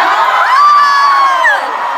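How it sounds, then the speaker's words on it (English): Voices cheer, whoop and shout loudly at a fan-convention script reading, a sustained roar that swells and then eases slightly over about two seconds. "The crowd roars."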